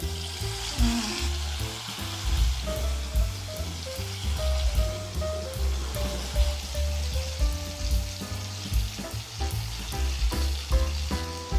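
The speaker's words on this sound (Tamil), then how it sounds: "எண்ணெயில் போட்டு பொரிச்சு எடுத்தா உருண்டை ரெடி" Banana flower kola balls deep-fry in hot oil, giving a dense, bubbling crackle and sizzle close up, steady throughout with faint kitchen clatter and no talk.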